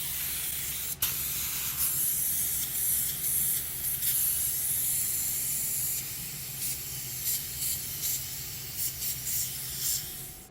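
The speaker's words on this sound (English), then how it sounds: "now I'm getting ready to throw a coat of primer on it." A spray gun lays a coat of primer on a sanded Cadillac bumper during a mobile repair. Close, hissing bursts of spray start and stop repeatedly, some short and some drawn out, with brief pauses in between.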